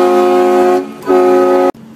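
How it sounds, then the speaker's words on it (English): A loud train horn blares from a car outside a Walmart as a prank, two strong chord blasts separated by a brief dip, then it cuts off sharply. "Train horn video scaring people at Walmart."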